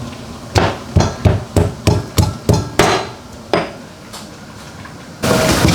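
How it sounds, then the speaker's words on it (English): Garlic cloves are smashed with a blade on a kitchen board for Xi'an-style liangpi cold noodles: about eight sharp, evenly spaced thwacks, then a couple of slower hits and a burst of noise at the end, all close and loud. "First we smash the garlic."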